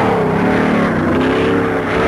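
1967 Can-Am race cars at Road America roar out of the carousel corner, a loud, sustained engine drone climbing in pitch as they accelerate close by.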